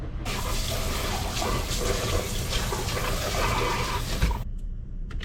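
Running water pours steadily from a tap as freshly filleted fish, caught from the beach, are rinsed clean, a continuous close splashing flow that stops sharply near the end.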